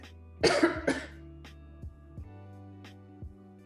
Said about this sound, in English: I ate too many tortilla chips, so now I'm coughing